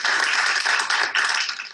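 An audience in a film applauds a violinist, with dense, steady clapping that dips briefly and then swells again before tapering off.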